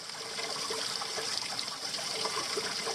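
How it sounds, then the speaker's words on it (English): Water trickling through a survival straw filter at a wild camp, a steady close hiss and dribble with no pauses. "So it's been filtered through the survival straw"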